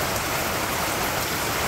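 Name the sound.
light monsoon rain falling in a village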